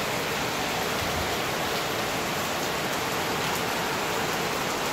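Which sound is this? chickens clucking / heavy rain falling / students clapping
heavy rain falling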